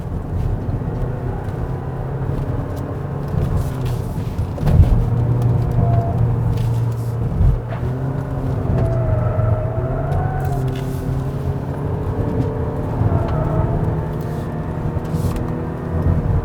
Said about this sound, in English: Right now we're driving on the highway and it feels pretty quiet in here.